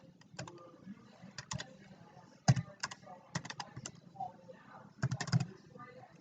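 Keys clatter on a computer keyboard while a student login is entered. The typing comes in short bursts of clicks at close range, with quiet talk running underneath.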